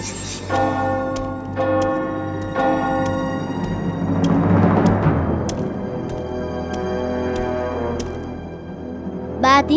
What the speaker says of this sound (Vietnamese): Tiếng chuông đã điểm, kéo người đàn ông này ra.